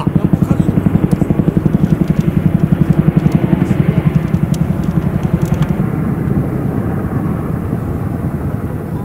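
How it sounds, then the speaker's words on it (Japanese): A helicopter over a mountain wildfire on Mount Dabo, Etajima, its rotor thumping in a steady rapid pulse, fairly close and loud, easing slightly toward the end with faint voices underneath. "ヘリコプターこっちからちょうど山手からこっちから来てますよ"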